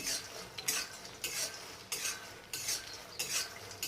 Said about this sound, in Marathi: मखाने आता आपल्याला एकदम लो फ्लेमवरती कुरकुरीत होईपर्यंत छान क्रिस्पी होईपर्यंत भाजून घ्यायचे आहेत